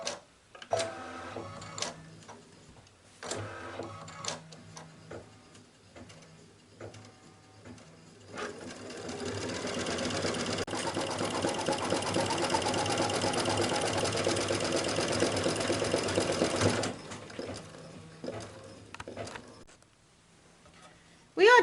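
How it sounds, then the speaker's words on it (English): An embroidery machine stitches poinsettia layers in rayon thread with an 80/12 needle, its steady mechanical whir running loud and continuous through the middle after brief start-stop bursts, then halting near the end. "So let's get started embroidering our first layers for the poinsettia."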